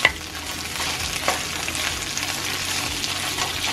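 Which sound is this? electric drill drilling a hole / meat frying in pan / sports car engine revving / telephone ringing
meat frying in pan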